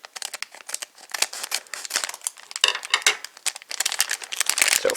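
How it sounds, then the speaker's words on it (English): Plastic Yo-kai Medal Dream 04 packs being cut open with scissors, a close, busy run of crinkling wrapper rustles and sharp snips in irregular bursts, with no voices. "So, bring in my scissors, let's get to opening this,"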